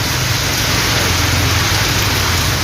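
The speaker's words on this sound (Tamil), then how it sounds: "திருவாரூர் மாவட்டத்தில் இரண்டாவது நாளாக கனமழை பெய்தது." Heavy rain pours steadily in Tiruvarur district, a dense, loud, continuous downpour with a low rumble underneath and no voices.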